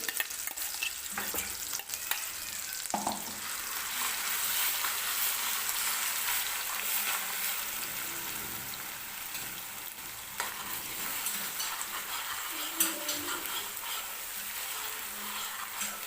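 Onion-tomato gravy for matar paneer roasts in oil, a continuous soft sizzle with frequent spoon-stirring scrapes throughout.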